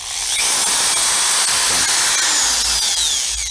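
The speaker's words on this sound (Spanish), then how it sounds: "La primera prueba para sospechar que una armadura está mal es prendiendo el artefacto y viendo si chisporrotea." A running electric power tool, such as a drill or grinder, with a worn armature whines steadily and loudly, its high motor hiss laced with faint crackling from sparking brushes throughout.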